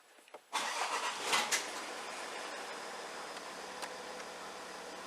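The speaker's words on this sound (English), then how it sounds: "So I've got the car running now" A Range Rover L405 engine starts inside a workshop with a sudden catch and rev, then settles into a steady, fairly quiet running hum with no talking.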